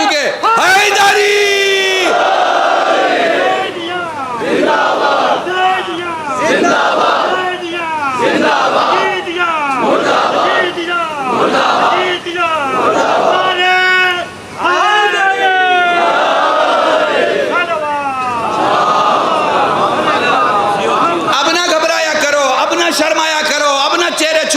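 A large crowd at a religious gathering in Qazpura, Ambedkar Nagar, loudly chants the slogan Haideri in repeated rising calls, filling the space almost without pause.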